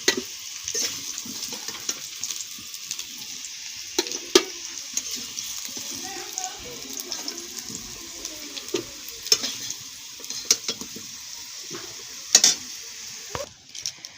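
Potatoes fry in mustard oil in a pan over a chulha, a faint continuous sizzle with scattered clicks and scraping stir sounds, close and unaccompanied by talk.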